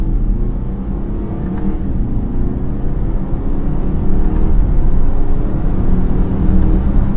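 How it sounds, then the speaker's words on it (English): Inside a 2018 BMW X3 30i with a 2-liter turbo four, the engine hums in a deep, steady cabin drone that swells slightly as the SUV accelerates hard in first gear, with no talking. "we're gonna do a little acceleration run right here"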